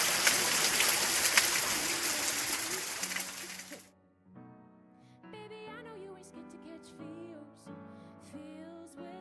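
Stream water rushing along a hiking trail near waterfalls in South Africa's Free State, a loud steady broadband wash for about four seconds before cutting away to quieter tonal sounds.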